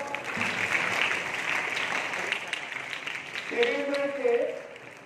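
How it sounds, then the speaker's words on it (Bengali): Audience applause at a prize giving ceremony for an annual drill competition, steady dense clapping throughout with a voice speaking over it near the end. "জোর জোর হাততালি দাও"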